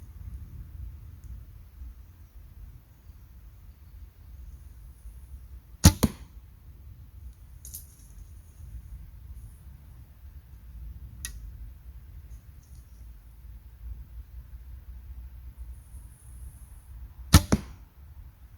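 Two arrows loosed from a Shrew Classic Hunter 2 two-piece takedown longbow strike a target outdoors, each a sharp, close thwack, spaced well apart over a low, quiet background rumble.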